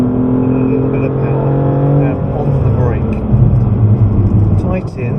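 A BMW M3 on a hot lap at Goodwood, engine droning loudly from inside the car, then easing off as the driver brakes. Someone talks over the engine noise.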